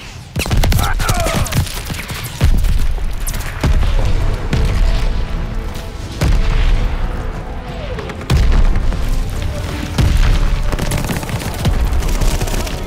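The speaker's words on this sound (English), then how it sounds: "They're sending mortar shells." Mortar shells and gunfire go off in a Call of Duty Vanguard multiplayer match. Loud booming blasts arrive roughly every couple of seconds over a dense, continuous rattle of battle noise.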